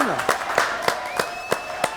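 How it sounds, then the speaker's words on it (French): Sharp, evenly spaced claps sound in a small studio audience during a French TV show, about seven distinct hits in two seconds. "Allez, on l'applaudit."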